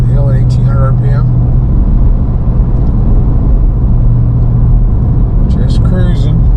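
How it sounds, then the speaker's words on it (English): A 2023 Ford Raptor R climbing a hill at about 1800 RPM, its engine a steady low drone heard from inside the cab, with someone talking over it at the start and end. "Here we are, bottom of the hill at 1800 RPM."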